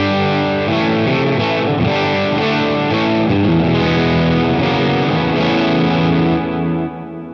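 Electric guitar played through delay and reverb feeding a cranked distortion stage in an HX Effects loop, a thick, saturated wash of chords with long echoing tails, loud and continuous, fading out at the end.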